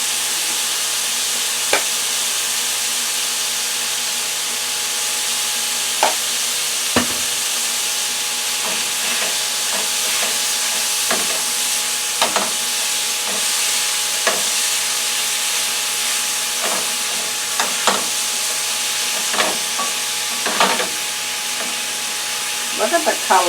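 Teriyaki beef from T-bone steak, with pineapple, pepper and garlic, sizzles steadily in a hot pan, a continuous frying hiss broken by occasional stirring clatters, close and moderately loud with no talking.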